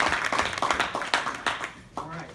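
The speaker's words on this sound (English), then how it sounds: "can I get a big round of applause for Gavin Harper?" A crowd applauding with steady, dense clapping, fairly close, while a voice speaks over it.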